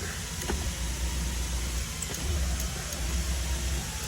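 An electric power seat motor whirs inside a 1979 Chevy Monte Carlo, a steady low mechanical hum that runs at an even level for about four seconds with no talking.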